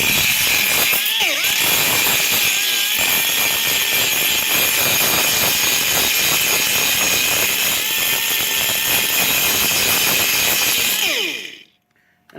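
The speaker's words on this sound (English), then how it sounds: "now I'll give it a grind down and see how it looks" An angle grinder grinds down a fresh weld on a Massey Ferguson tractor during a diesel engine swap, a loud, close, continuous high-pitched whine with gritty metal rasp that spins down and stops near the end.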